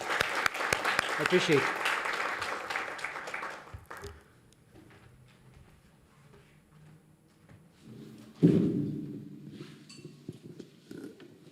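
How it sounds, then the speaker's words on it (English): Audience applause at a local community donor event fills the opening seconds, a dense wash of clapping that fades out around the four-second mark, followed by quiet room tone and then brief speech. "I want us to give them a round of applause"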